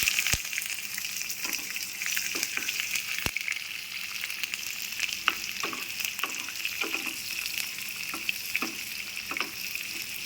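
Steady hiss of dry red chillies frying in hot oil, with soft crackles and occasional clinks of a stirring spoon against the pan.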